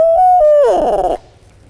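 One loud owl hoot is produced with a turkey-hunting call to mimic a real owl, a sustained close note that wavers and drops before cutting off to near silence.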